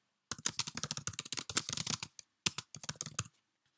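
Rapid bursts of keystrokes on a TI-99/4A computer keyboard, sharp clattering clicks in quick runs with a brief pause, close and clear with no voices.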